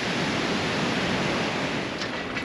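Surf on a South Pacific passage between Apataki and Rangiroa in French Polynesia, with waves building up against wind and current, makes a steady, dense roar of rushing water and wind noise that fills the whole clip without pause.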